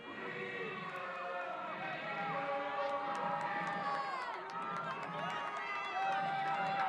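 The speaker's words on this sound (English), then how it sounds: "Crowd noise already building" Crowd noise building before a women's rugby match between the USA and Canada, a steady wash of cheering, whistles and scattered shouts at moderate distance without pause.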